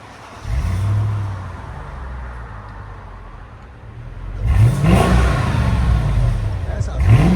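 A Mercedes S55 AMG Kompressor 5.5-litre V8 with an X-pipe and the resonators removed idles low and close, then revs sharply around the middle and again near the end, with voices talking nearby.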